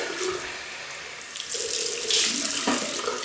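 Water runs steadily from a tap, a continuous bright splashing hiss that swells slightly louder midway, close up with no talking.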